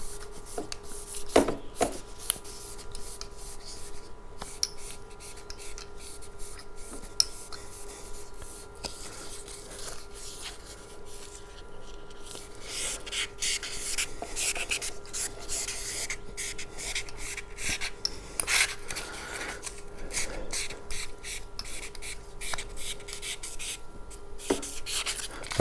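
A KTM fork tube is sanded by hand with sandpaper in a cross-hatch pattern, giving steady close rubbing and scraping strokes that grow busier and louder through the second half.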